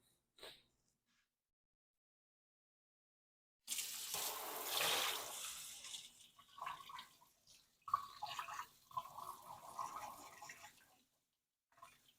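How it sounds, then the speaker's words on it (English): Water from a tap rinsing the roots of a schefflera plant during repotting, a splashing flow that starts abruptly after silence, then turns into uneven gushes and drips before stopping. "I'm going to give this a quick rinse."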